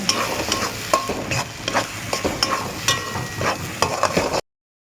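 Pea kachori filling is stirred and dried in a pan, a continuous frying sizzle broken by repeated spoon scrapes and knocks in an irregular rhythm, close and fairly loud.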